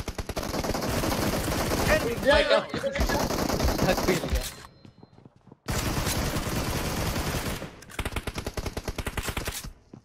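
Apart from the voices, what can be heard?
pistol gunfire in the PUBG Mobile video game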